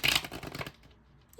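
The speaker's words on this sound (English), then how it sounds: "shuffling the cards up here, it's so loud" A brief, dense riffle of tarot cards being shuffled close by, lasting under a second before falling quiet.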